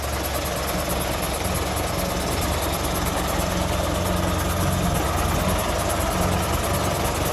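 A newly delivered half-brake vehicle idles steadily in the rain, a constant close low engine rumble with no pauses and no voices.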